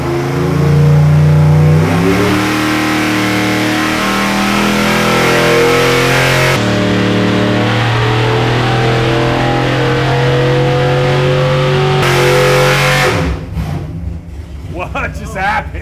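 A junkyard big block Chevy V8 on a dyno pull, loud sustained revving that climbs in pitch in steps before cutting off sharply near the end, leaving clatter and a fading idle.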